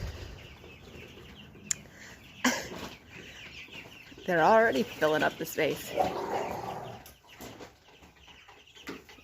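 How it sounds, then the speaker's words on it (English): Freedom Ranger chickens inside new electric poultry netting cluck and chatter close by in short bursts, with a person talking over them. "And those are Freedom Ranger chickens."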